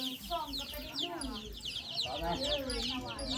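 Pet chicken clucking in a steady run of short calls, close and fairly loud, with other bird chatter and background voices mixed in.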